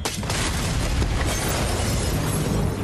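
Explosion of a museum, a loud sustained blast with broadband roar and rumbling low end that holds steady for about three seconds, with no talk over it.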